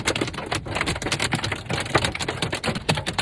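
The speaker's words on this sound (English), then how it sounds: "This is the longest hailstorm I've ever experienced." Hail pelting a Rivian R1S during a long Kansas hailstorm, a dense, loud, continuous clatter of hard impacts drumming on the vehicle with no voices.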